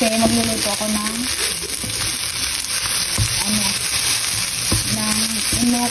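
Enoki mushrooms sizzle and fry in a pan for fried rice, a steady close crackle with intermittent scraping stirs and faint voices in the background.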